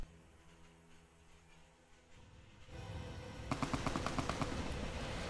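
Gunfire in the modded video game Fallout New Vegas, a rapid string of evenly spaced automatic shots starting partway through, moderately loud over a steady game background.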